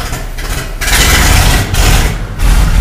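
A 1969 Chevy engine with an old Quadrajet carburetor runs roughly and refuses to settle into an idle, a loud, close, rumbling drone that surges and dips unevenly without any talk.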